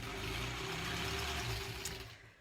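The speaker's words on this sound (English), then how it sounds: "I am just continuously sewing the next section" Sewing machine chain piecing granny squares quilt pieces, a steady close mechanical hum with fast rhythmic needle thumping running continuously, then easing off near the end.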